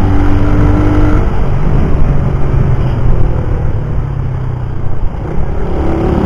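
A 2023 Suzuki Raider 150 motorcycle, still in its break-in period, roars through a top speed run. The loud, steady engine drone is mixed with rushing wind and has no talk over it.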